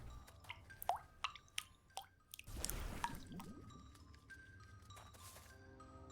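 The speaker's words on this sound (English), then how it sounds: "The water dripping sounds are so loud." Water drips in the video game Wytchwood: irregular close plinks and drops, then a brief wet splashing gush, followed by further scattered faint drips over quiet game ambience.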